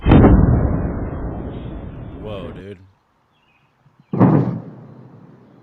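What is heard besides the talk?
sonic boom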